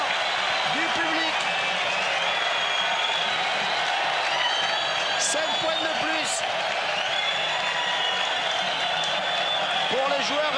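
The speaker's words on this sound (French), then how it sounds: "Essai de Camara. Sous les applaudissements du public." Rugby World Cup 1995 crowd applauding a try in France versus Côte d'Ivoire, a broad, sustained roar of clapping and cheering beneath a commentator's voice.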